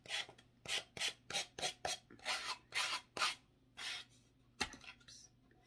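Sandpaper rasps against a pine box in a series of quick back-and-forth strokes, about a dozen rhythmic scrapes, close and fairly quiet.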